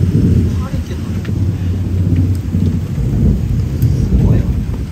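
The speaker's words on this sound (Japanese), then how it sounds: "いきなりの雨やめてね。" A sudden rain shower pours down in a loud, steady rush with heavy low rumbling, continuous throughout and close by, with a person's voice faintly underneath.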